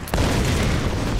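An explosion in the Tomb Raider PC game, heard as a single sharp boom followed by a dense, sustained rumbling roar, loud and close, lasting just over a second with no talk.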